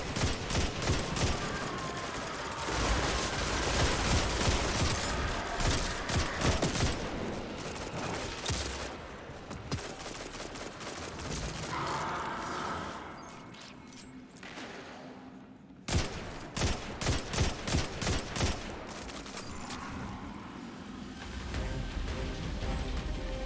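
Rapid weapon fire in Destiny 2, long loud bursts of automatic shots with short pauses and a crisp volley of evenly spaced shots near the end, fighting waves of enemies.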